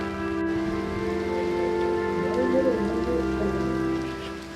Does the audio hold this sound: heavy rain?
yes